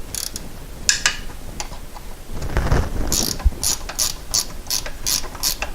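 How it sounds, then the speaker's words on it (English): A 13mm ratchet wrench turns an adjuster on a VW Cabriolet during water pump work, giving a run of quick, crisp clicks that grows more regular toward the end, loud and close. "I actually bought a 13mm ratchet wrench."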